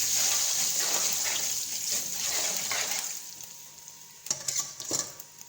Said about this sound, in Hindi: हल्का सा तड़का लगाएंगे इसको।